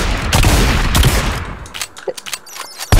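Shotgun fire in a modded Minecraft game, a dense burst of loud overlapping blasts for the first second and a half, then scattered quieter shots and impacts, with no speech.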